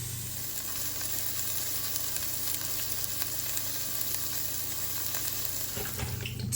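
Hot oil for frying breaded green tomatoes sizzles in a steady, continuous crackle at close range, with a low hum underneath and no voices.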